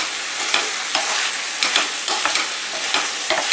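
Loud, steady sizzling of chicken sautéing in a hot pan, with occasional scrapes and clinks of stirring throughout, no voices.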